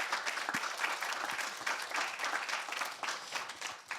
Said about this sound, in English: please put your hands together and applaud the panel.